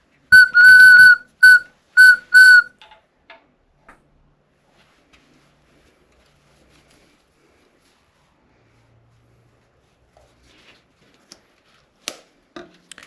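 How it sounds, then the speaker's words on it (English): A high, pure whistle from a turned wooden whistle blows four short blasts in quick succession, then near silence with a few faint knocks and clicks afterward. "As you can hear, it's certainly whistling"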